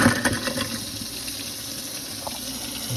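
Water drains from a sink fitted with a garbage disposal after a backup clears, a steady gurgling rush with a louder splash at the start settling into a continuous flow.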